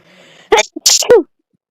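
A sharp sneeze bursts out, preceded by a faint intake of breath, close and loud against a quiet background.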